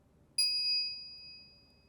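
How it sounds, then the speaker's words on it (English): A single bright microwave chime from the video game Steins;Gate Elite rings out clearly once, then fades slowly over a quiet background hum. "After 120 seconds pass, the microwave chimes."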